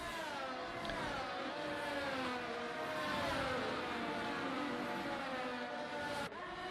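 Several Formula 1 cars accelerating together at the start of a race at the Brazil round of an F1 racing video game, a dense chorus of rising, wailing engine notes that swell steadily and cut off sharply near the end.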